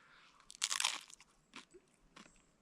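Loud close crunching bites into tacos stuffed with biscuits and Cheez-Its, a dense burst of crisp crackling followed by two shorter crunches, with no talking.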